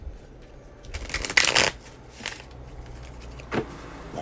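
Tarot cards riffle and slap together in a couple of quick shuffling bursts, close by, separated by quieter pauses with a low background hum.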